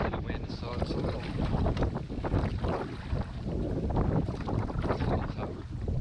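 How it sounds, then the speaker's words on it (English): Strong wind gusts buffet the microphone while paddling a canoe near reeds on a creek, a loud roaring rumble with constant blustering and faint water movement underneath. "Well, the wind is pretty strong. These gusts just came up and blew me right over to the side into the reeds here."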